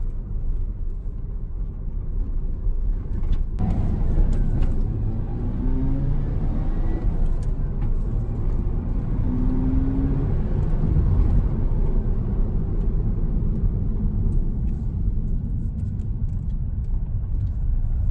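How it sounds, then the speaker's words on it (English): A Mazda FD RX7 drives along, its engine and road noise making a loud, continuous low rumble that swells slightly in the middle, heard from inside the car. "Driving this particular RX7, the performance of the car is just fabulous."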